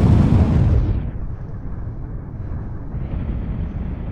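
Rockets fire on a bus in the BeamNG driving game: a loud, broad roaring blast at the start that settles into a sustained low rumbling thrust, steady and close, with no voices.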